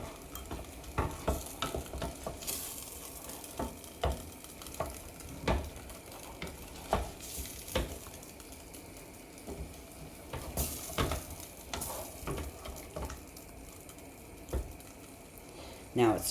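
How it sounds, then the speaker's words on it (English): Fresh tomato soup heating in a pot, stirred repeatedly with a utensil that scrapes and knocks against the pot in irregular strokes over a soft simmer, with a voice speaking at times. "you have to stay with it and stir it because you don't want it burning"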